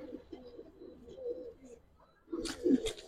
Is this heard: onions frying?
no